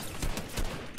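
Rapid bursts of gunfire in the Fortnite video game, several loud shots clustered close together in quick succession.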